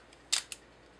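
A camera shutter fires at a quarter-second speed, giving two crisp clicks about 0.2 seconds apart, close and sharp against near silence.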